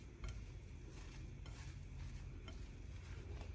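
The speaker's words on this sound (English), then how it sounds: "You're going to mix till all the spices are incorporated" A spoon stirring spices through a mixture for an Iraqi kopeh dish, giving a steady soft scraping and shuffling with a few light clicks, close by and quiet, with no talk.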